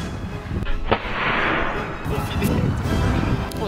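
A homemade gas-fired potato cannon (patator) goes off outdoors with one sharp, loud blast, then a sustained rushing roar that fades into steady background noise.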